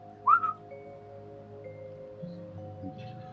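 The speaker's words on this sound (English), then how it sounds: "Probably gonna give him a whistle." A person whistles once to get someone's attention in a tabletop role-play scene aboard a ship: a short, rising whistle over a steady low hum with soft background rustle and music.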